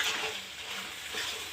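Vegetable curry sautés and is stirred in a hot pan, a steady close-up sizzle and frying hiss with soft scraping from the stirring, continuous and without talk.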